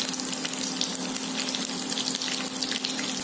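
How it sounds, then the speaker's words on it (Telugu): Green chillies sizzle and crackle steadily in hot oil in a pan, a loud, continuous frying hiss with no talking. "సో ఆయిల్ కాగిపోయింది, పచ్చిమిర్చి కూడా వేసేస్తున్నాను."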